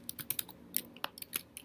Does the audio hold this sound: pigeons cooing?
no